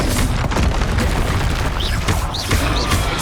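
Spell blasts from Confringo in Hogwarts Legacy boom loud and close over dense combat noise, with a few whooshing sweeps cutting through the continuous din.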